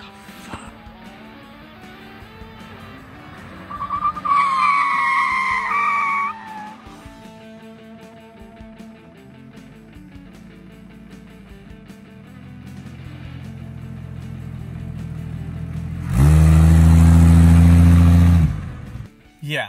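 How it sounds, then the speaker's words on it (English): A 1966 Ford Mustang with stock front drum brakes braking hard from about 50 mph to a dead stop: engine revving, a short tire squeal, then a loud rumbling surge near the end, with brief talk in between. "that was a brake test from about 50 miles an hour to a dead stop with these stock front drum brakes"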